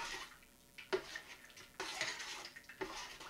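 Cheese sauce for baked macaroni and cheese is stirred in a pot over high heat, soft intermittent scraping and clinking of a utensil against the pot in a few bursts, fairly quiet with no talking.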